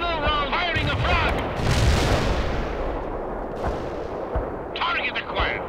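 A frag round is fired in the real-time strategy game World in Conflict, landing as a deep, heavy boom with a rumbling tail amid battle noise, while radio-style voice chatter plays over the start and end.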